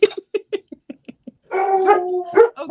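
Puppies yip in a quick run of short sharp barks, then let out longer whining howls, close and loud with no talk over them.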